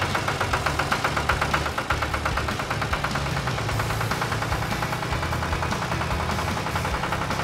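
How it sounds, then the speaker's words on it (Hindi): A giant robot tractor ploughs a field as a cartoon sound effect, with a steady rumbling engine and rapid knocking pulses that hold at a loud, even level throughout. "वो ट्रैक्टर एकदम से खेत जोतने लग"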